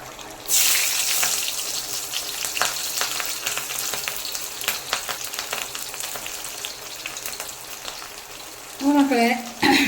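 Beef varattu simmering and reducing in a pan gives a steady, close sizzling bubble that runs throughout, with a few brief clinks and a louder burst near the end.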